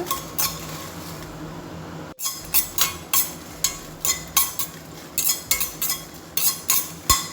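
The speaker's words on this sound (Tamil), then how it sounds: "15 காஞ்ச மிளகாய் போட்டு கொஞ்சம் செவக்க இந்த மாதிரி வறுத்துக்கிட்டே இருப்பாங்க." Dried red chillies being stir-roasted in a pan for puliyodharai, a Tamil tamarind rice, with repeated sharp metal spoon scrapes and clinks against the pan, a steady run of strokes that quickens in the latter half, close by and without talk.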